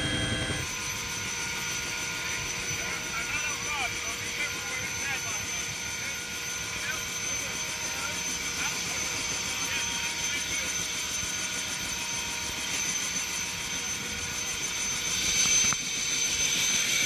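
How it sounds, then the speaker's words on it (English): Steady thudding drone of a helicopter flying in to Navassa Island, continuous and loud as if from inside the cabin, with voices talking faintly beneath the rotor noise. "Here we are on the first helicopter flight in."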